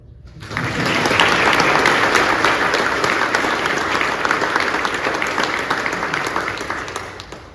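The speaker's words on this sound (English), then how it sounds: "That's a round of applause." A large audience at a Naval Hospital Jacksonville change of directorship ceremony breaks into loud, sustained applause that swells quickly and holds steady before tapering slightly at the end.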